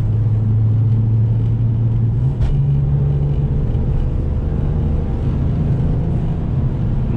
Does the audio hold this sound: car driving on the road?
yes